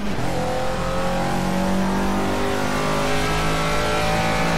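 Caterham Super Seven engine revving in Project CARS, a loud, close, sustained buzzing drone with rising pitch as it accelerates, no voices.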